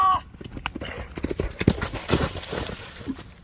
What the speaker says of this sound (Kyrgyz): Атты чаап көрсөтөбүз